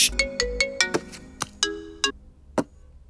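A phone ringtone plays a bright series of electronic notes in a clear, rhythmic melody during a Hindi film scene, with no talk over it.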